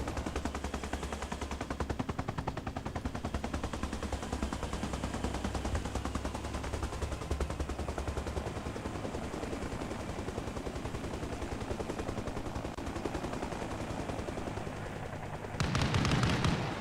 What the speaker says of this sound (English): That's BTR shooting now.